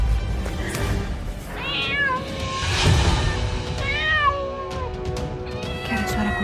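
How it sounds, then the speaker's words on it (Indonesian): A cat meows repeatedly in drawn-out, wavering cries, fairly close, with a few short sounds between them and faint background noise. "Kayak ada suara kucing."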